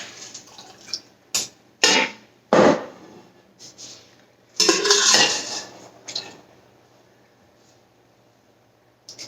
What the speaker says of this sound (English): I'm going to take my fermentation crocks, or my fermentation weights, and I'm going to put them in there